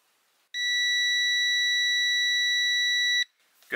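A Tesmen TM-510 smart digital multimeter gives a continuity beep while testing a good car fuse: one clean, steady high-pitched tone lasting nearly three seconds, loud and close, starting and stopping abruptly in silence.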